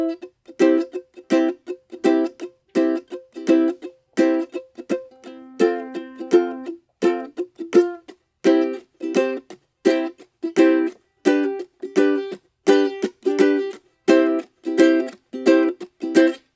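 Ukulele strumming a reggae-style rhythm with muted dead-note chops, steady clipped chord hits at a brisk pace, close and alone throughout.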